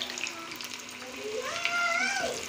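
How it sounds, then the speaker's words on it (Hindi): Aloo bada fry in oil over a medium gas flame, a quiet, close sizzle with faint gliding tonal sounds rising over it near the end. "हमारे आलू बड़ा दोनों साइड से एक से फ्राई हो जाए।"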